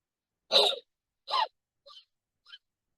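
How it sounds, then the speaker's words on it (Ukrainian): Four sharp, breathy bursts of forced diaphragmatic exhalation, like coughs without voice or throat strain, the first two strong and the last two short and faint, with silence between. "і потім видихаю, начебто я кашлю,"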